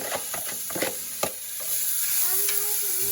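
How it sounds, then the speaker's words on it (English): Peppers, onions and celery sautéing in a pan while being stirred constantly, with a steady close sizzle, scraping utensil strokes early on and a faint tonal whine in the background. "we're gonna saute the peppers and onions and celery off about 4-5 minutes."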